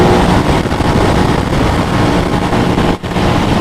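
An Aprilia RS660 motorcycle fitted with KTech suspension, heard while riding: a loud, constant engine drone mixed with rushing wind noise, with a brief dip near the end.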